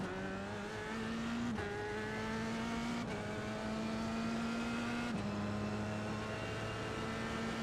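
Simulated race car engine from a racing video game, driven with pro pedals, holding a steady loud drone with sharp gear-shift drops and pitch climbs roughly every second and a half, tire noise underneath.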